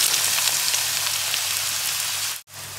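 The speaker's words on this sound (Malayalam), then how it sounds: "അതിനകത്തേക്ക് ഞാൻ നമ്മൾ സ്ലൈസ് ചെയ്ത് വെച്ചിരിക്കുന്ന ഓണിയൻസ് എല്ലാം കൂടെ ആഡ് ചെയ്യണം" Sliced onions frying in hot coconut oil for prawn rice, a steady, close crackling sizzle that cuts out briefly near the end before resuming.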